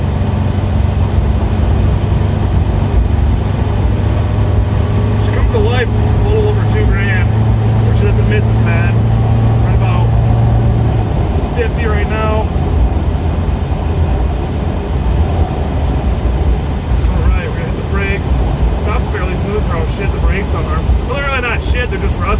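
A 1985 Volvo 244 engine, long unused and misfiring slightly, drones steadily in third gear at about 35 mph, the cabin hum rising toward the end while someone talks over it.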